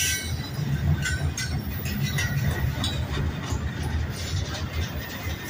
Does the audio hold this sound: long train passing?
yes